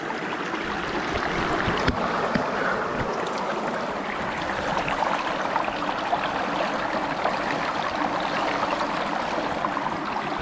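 Water rushes steadily through a gold panning sluice set in a current over glacial till in Pennsylvania, a continuous broadband wash that stays even and fairly loud, with no talk.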